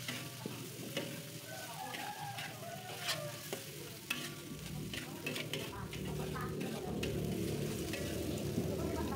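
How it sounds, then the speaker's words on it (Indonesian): Continuous sizzling of thinly sliced carrots being stir-fried until wilted in a hot pan, with scraping and stirring sounds throughout and faint background noise. "Kita tumis wortelnya sampai layu"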